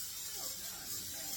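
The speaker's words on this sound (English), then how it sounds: "I'm going to spray my pan." Cooking spray hisses onto a pan in a short, soft continuous burst, close by and fairly quiet.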